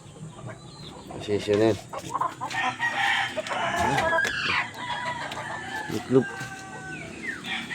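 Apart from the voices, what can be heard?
gamecock rooster clucking and crowing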